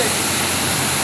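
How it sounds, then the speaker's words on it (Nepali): A restaurant's waterfall rushes in a dense, steady roar of falling water, close and loud for a brief moment with no other sound on top. "पानीको झर्ना चाहिँ यसरी देखिरहेछ"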